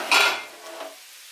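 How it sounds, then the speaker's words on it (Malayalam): A pressure cooker holding chicken is opened with a sharp metallic clank of the lid, followed by a softer, fading rattle close by. "പിന്നെ നമുക്ക് കുക്കർ തുറക്കാം."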